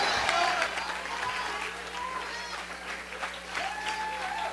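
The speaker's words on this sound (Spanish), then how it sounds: "di gloria a Dios, dale un aplauso" Church congregation applauding to give glory to God during a Spanish-language service, a continuous moderate clatter of hands with voices rising and calling out over it.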